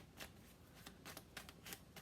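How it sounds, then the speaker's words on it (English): Tarot cards are shuffled in several quick riffling bursts, crisp flutters of paper close by, with short pauses between them. "I'm going to do two more shuffles and then pull from the top."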